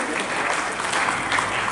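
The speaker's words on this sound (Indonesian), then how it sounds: "bolehkah saya meminta tepuk tangan yang sangat meriah untuk mengawali" Steady applause from a large theatre audience before a Ketoprak folk drama performance at a Kagama anniversary event, dense and continuous clapping with no pause and no voices over it.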